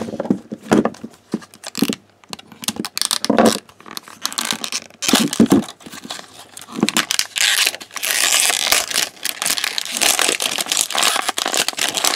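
Scissors cut open plastic toy packaging, giving sharp irregular snips and crinkling plastic crackles that grow into a denser, louder rustle toward the end, close by with no talking.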